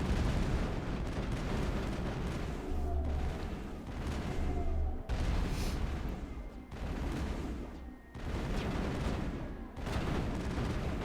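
Squadmates' rifle fire in the Mass Effect video game, heard as bursts of dense, rattling shots broken by brief pauses. The firing stays fairly close, with no talking.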